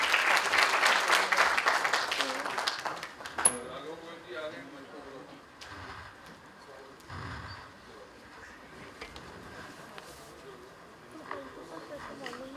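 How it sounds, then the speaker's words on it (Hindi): Audience applause honouring a guest at a poetry gathering: dense clapping for about three seconds that then fades, followed by a host speaking over a quiet hall. "आप सब भी सम्मान में अपनी तालियों से सहभागिता कर सकते हैं।"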